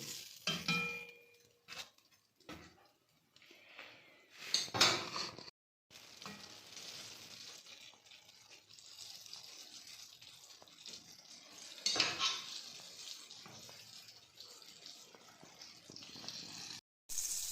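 Homemade chicken nuggets shallow frying in a pan of oil, a steady sizzle with clinks of a utensil and pan as pieces are turned, sharper scraping bursts standing out now and then, no talking.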